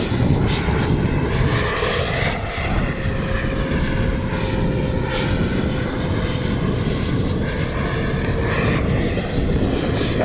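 A Freewing 80mm F-5 Tiger II RC jet flies at about three-quarter throttle in a fast climb. It gives a loud, steady, rushing roar with a thin high whine that holds for the whole stretch, with no talk.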